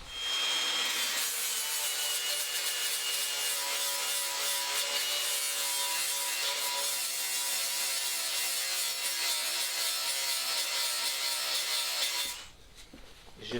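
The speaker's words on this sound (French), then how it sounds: "J'ai meulé des deux côtés équitablement." A grinder runs steadily against metal while grinding down skateboard axle cylinder blocks, a loud continuous rough abrasive whine lasting about twelve seconds before cutting off abruptly.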